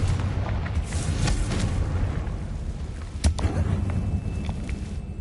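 A Confringo fire-spell explosion in a Harry Potter video game gives a dense, rumbling roar with crackling debris, then a sharp burst partway through as the blast continues under sustained noise.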